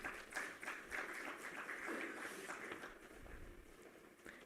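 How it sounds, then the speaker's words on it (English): A summit audience gives faint, distant applause for a panel of speakers, scattered claps blending into a soft, uneven patter that fades slightly toward the end. "Please give our speakers a huge round of applause."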